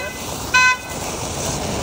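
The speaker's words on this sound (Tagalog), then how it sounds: "May busina pa eh" A single short car horn toot sounds over steady traffic and street noise.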